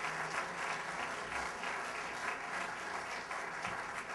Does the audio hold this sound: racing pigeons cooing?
no